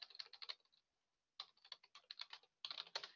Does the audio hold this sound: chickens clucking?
no